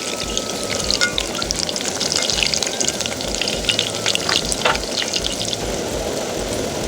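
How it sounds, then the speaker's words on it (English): Kenyan bread balls fry loudly in oil, a dense close crackle of popping bubbles and spits over a steady low rumble, continuous with no talking. "If one side has fried enough, you can always rotate."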